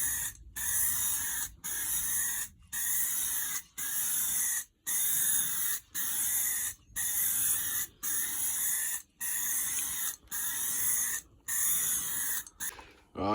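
Aerosol spray paint goes onto a Honda FN2 Type R spoiler in about a dozen loud, close hissing bursts of roughly a second each, separated by brief pauses in a steady rhythm.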